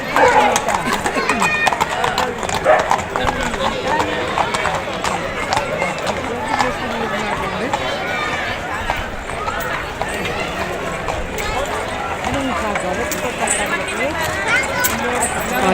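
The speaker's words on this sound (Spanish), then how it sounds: "Esos caballos negros, que guapo" Black horses parade through a street at the Tres Tombs festival in Vilanova i la Geltrú, hooves clip-clopping steadily on pavement with crowd noise, while people chat nearby throughout.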